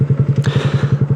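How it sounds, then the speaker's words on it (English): A Honda Grom motorcycle fitted with a Leo Vinci exhaust thumps out a fast, even beat of loud, close exhaust pulses, roughly ten per second. "this Grom has a Leo Vinci exhaust."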